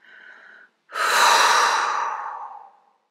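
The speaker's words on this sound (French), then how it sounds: "Expiration, tout le négatif sort." Slow, deliberate exhalation during a guided relaxation breathing exercise: a soft short breath, a brief pause, then one long airy outbreath that swells and gradually fades over about two seconds, close and alone.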